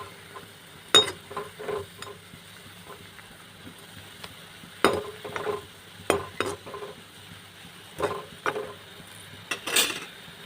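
Crushed garlic fried in a kadai pan gives a soft steady sizzle, broken by scattered clinks and scraping stirs from a utensil that come and go without any talk.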